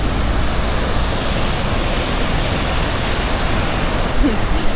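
Waterfalls pour down on both sides of a road in Norway, making a dense, steady roar of rushing water that stays loud and unbroken throughout.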